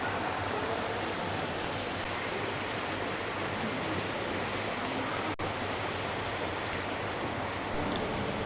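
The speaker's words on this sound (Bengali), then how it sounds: "কি সুন্দর বৃষ্টি হচ্ছে।" Rain falls steadily at night, a dense, even hiss that never lets up and carries no distinct drops or voices.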